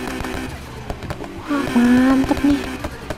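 A car engine in a car modding video game revs up into a loud, rising tone that holds for about a second, following softer engine noise and clicks from the game.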